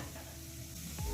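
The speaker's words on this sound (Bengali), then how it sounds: "এবার আমি মিডিয়াম ফ্লেমে রেখে 30 থেকে 40 সেকেন্ড মশলাটা কষিয়ে নেব।" Spice masala with turmeric frying in a pan over medium flame for a fish curry, a steady low sizzle with faint stirring scrapes, quiet and close, with no voices.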